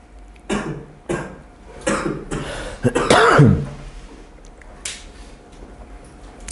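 Harsh coughing and throat clearing from someone sick with a cold or flu, a brief cluster of rough coughs around the middle, with a few quieter clicks and breaths around it.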